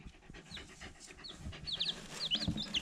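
Chicks in a warm spot, with soft high peeping chirps scattered through the clip, quiet and close, alongside a dog's panting and small thumps.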